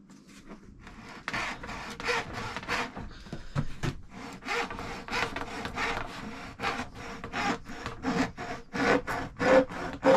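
Air filter pipe on an MX5 being trimmed by hand, a steady rhythmic rasping like sawing or filing that builds slightly in loudness, close up with no talking.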